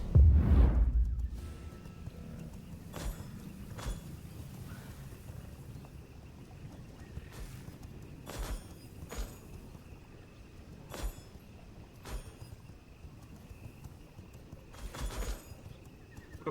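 Steady hoof clip-clop of a horse in the video game V Rising, with an occasional whinny, over soft wind-like background noise, with no talking.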